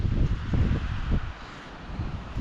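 Steady low rumbling wind buffeting outdoors in the Arizona high desert, gusting in waves with some rustling, no voices.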